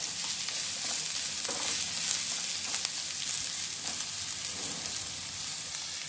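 Onions sprinkled with a little salt fry in a pan for pongal dosa, giving a steady close sizzle with soft stirring scrapes and no voices.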